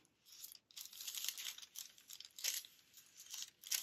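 Pattern paper being folded for a hoodie's banded hem, crinkling and rustling in several quick, close bursts with short pauses between, fairly quiet and with no talking.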